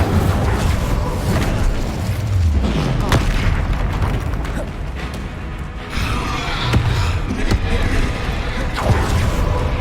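Fire spell blasts and booming impacts during combat in the video game Hogwarts Legacy, loud and dense with several sharp hits over a continuous rumbling game soundtrack, with a voice calling out spells.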